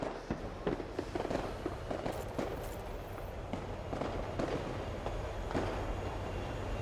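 A train rumbles through a station in the video game Potentia, a steady heavy rolling roar with clattering bursts, continuous and fairly close, with no talking.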